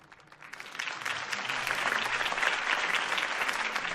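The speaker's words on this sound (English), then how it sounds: "If only Mr. Wayne, my campaign's largest backer, could have heard that applause" Crowd applause in the Batman Telltale Series video game rises from a soft start into steady, dense clapping that stays loud through the end of a political campaign rally scene.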